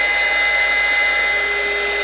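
Steady, loud whine and airy rush of a heat gun or hair dryer blowing continuously at close range while heating the ND filter tab of a DJI O3 camera, with no voices.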